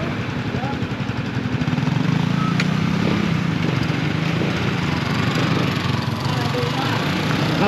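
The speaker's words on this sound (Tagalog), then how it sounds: "Subukan namin yung motor ni Kautoy kasi nagpalit na ng sprocket." A small motorcycle with a newly changed sprocket runs steadily at a low, even idle-to-cruise drone, close and fairly loud for several seconds, with faint voices in the background.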